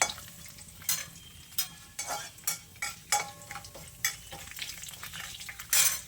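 Pirandai (adamant creeper) sizzles in a pan while a spoon scrapes and stirs it in repeated strokes, roughly one every half second, close up, with no talking.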